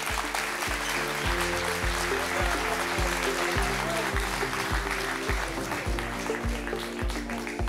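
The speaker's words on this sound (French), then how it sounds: "On les applaudit chaleureusement." Audience applause fills a hall at an agricultural awards ceremony, a steady broad wash of clapping with a rhythmic musical beat pulsing underneath throughout.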